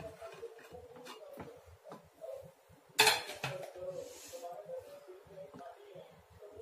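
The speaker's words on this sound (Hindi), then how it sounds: "अब हम कुकर का ढक्कन निकालेंगे।" Metallic clinks and clatter of a pressure cooker lid being handled and lifted off, with a sharp clank near the middle and light knocks around it.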